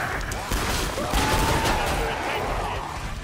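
Gunfire from the video game Killing Floor 2 comes in loud bursts and rattling volleys over a busy, noisy game background.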